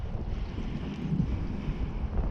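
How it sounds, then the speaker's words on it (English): Wind blows across a fishing dock in a steady low rumble buffeting the microphone, constant and fairly loud, with no voices. "you can't see that line bounce because the wind blowing right now"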